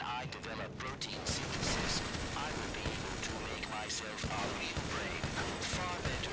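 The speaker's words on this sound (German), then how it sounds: "Hey, Schüsse auf mich." Gunfire in GTA 5 during the Doomsday Heist, with rapid bursts and scattered shots crackling under dense, ongoing game noise and voices talking over it.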